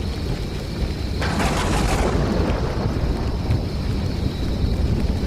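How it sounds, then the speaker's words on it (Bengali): A thunderstorm from a cartoon ghost story rumbles loudly and continuously, a crackling thunder burst near the start rolling into steady rain and wind noise that fills the rest. "বিদ্যুৎ চমকালো"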